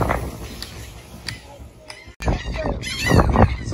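A large colony of about a hundred laughing gulls calling defensively over nesting terns in the rocks, with harsh overlapping cries close by, growing louder and busier toward the end.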